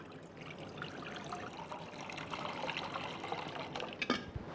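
Water is poured into a vessel as the first step of a sweet-sour raw mango drink, a soft, continuous trickling stream that stays fairly quiet and ends with a few brief splashes and clinks.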